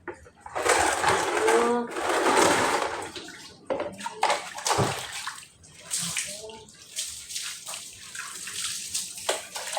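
Water splashes and pours in bursts while a dog is bathed, the sloshing rising and falling over several seconds as people talk nearby.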